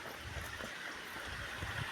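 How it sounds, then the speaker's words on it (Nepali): Spring water flowing steadily from a swollen well source after heavy flow, a continuous rushing wash close by with no voices. "यो पानी बग्या पानी कराइरहेको रहेछ"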